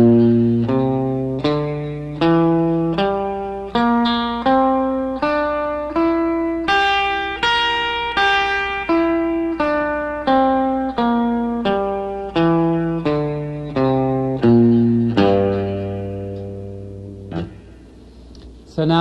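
An electric guitar plays a rising then falling scale, one plucked note at a time in a steady rhythm, with a slightly processed, effected tone.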